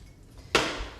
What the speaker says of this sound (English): I'm going to add a fourth cup of water